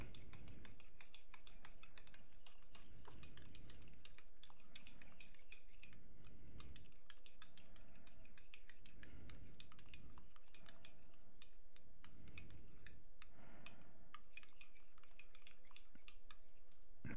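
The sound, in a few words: mixing ingredients with lemon juice and ground pepper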